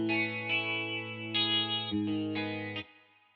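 An electric guitar played through reverb with the low end cut away in FL Studio gives a few sustained chords with bright, shimmering overtones, changing every half second or so and ringing out into a fading tail.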